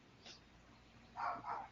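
Dogs in a home, heard faintly in the background: a soft yip followed by two quick barks near the end, with no talking.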